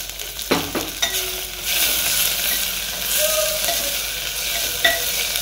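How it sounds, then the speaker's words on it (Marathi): Steady broadband sizzle of onions frying in a clay pot, with a few sharp clinks of a utensil near the start and again toward the end. "कांदा छान तळतोय."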